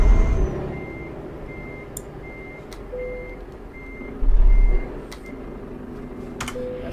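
A truck in Euro Truck Simulator 2 backs up to couple a trailer, its reversing alarm beeping in a steady, evenly spaced rhythm over a low engine drone, with a brief louder rumble partway through.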